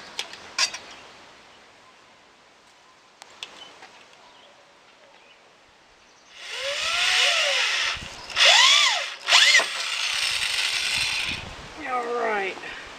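A power drill starts screws into roof boards for a rabbit barn, heard as a few whirring bursts that rev up and wind down, with quieter knocks and handling sounds before them.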